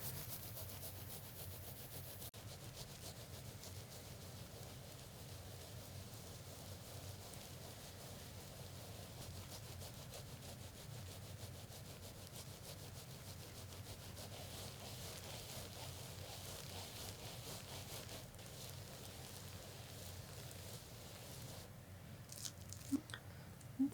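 Soapy sponge rubbing over mesh laid on wet felt forming a chameleon with nepps, a steady, soft scrubbing texture that runs continuously throughout, close and fairly quiet.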